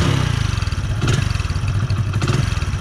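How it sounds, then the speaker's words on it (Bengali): A Hero HF Deluxe motorcycle engine runs at a steady idle close by, with a rapid, even low-pitched putter and slight mechanical clatter, no voices. "আপনাদেরকে যদি শোনাই আমি ইঞ্জিনের সাউন্ডটা"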